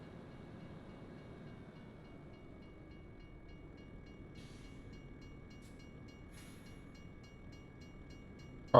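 A train rolls past with a faint, steady low rumble and steady tonal hum in the Euro Truck Simulator 2 driving game, distant and quiet, ending in a sudden sharp noise.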